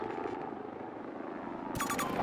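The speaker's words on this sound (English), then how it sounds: "Tracking helicopter," A helicopter drones steadily in a Battlefield 2042 match, a continuous rotor whir filling the background, with a quick series of bright electronic beeps near the end.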